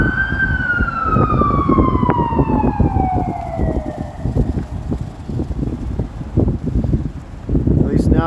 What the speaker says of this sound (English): At least now we can say the stream has finally had some good siren action.